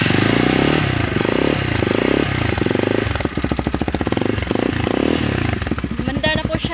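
Motorcycle engine cranked by its electric starter, a loud close whirring churn that catches into a rough, pulsing idle, with a person speaking briefly over it.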